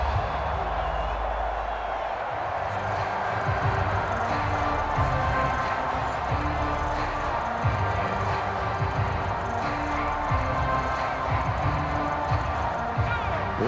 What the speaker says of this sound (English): This crowd turning up the decibel level